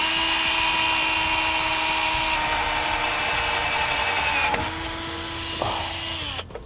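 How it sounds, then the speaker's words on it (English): A right-angle power drill whines at high speed for several seconds while drilling holes for a marine hydraulic actuator installation, its pitch shifting as it bores through material, then winds down and stops. "now we're going to drill those holes out completely"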